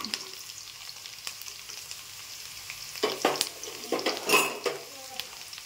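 Carrots and beans stirred and frying in a pan for upma, with a steady low sizzle, then louder scraping and clattering of the spoon against the pan for a few seconds near the end.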